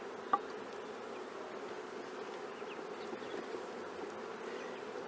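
Dense, continuous buzzing of many honey bees at an open hive in the tropics, steady and close, with a faint click near the start and no talking.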